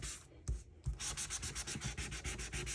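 Cardstock die cut is sanded by hand in quick, rhythmic rasping strokes, close and crisp, a couple of isolated scrapes first and then a steady run of repeated rubs, with no voices.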